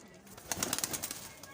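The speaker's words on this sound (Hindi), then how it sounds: "ये देखें, ये कबूतर है इसकी फ़ीमेल" A female pigeon being handled by a breeder makes a brief, quick burst of fluttering, soft and close, lasting under a second.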